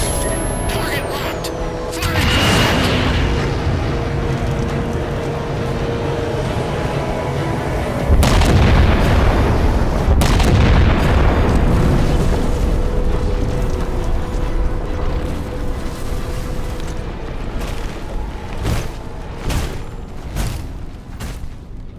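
Heavy weapon fire and explosions ring out in Halo 4, with a series of loud booms and blasts several seconds apart, each trailing into a long, rumbling roar over continuous mechanical battle noise.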